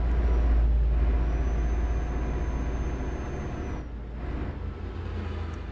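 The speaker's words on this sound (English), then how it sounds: "And also I am using a Renault truck." A Renault truck in Euro Truck Simulator 2 rumbles with a loud, low engine drone, a long hissing air brake release over the first seconds, then the engine settling into a steady idle on its own.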